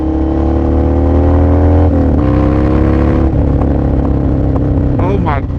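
A Harley-Davidson Sportster motorcycle with aftermarket exhaust idles and revs with a loud, steady low rumble, rising in pitch briefly near the end.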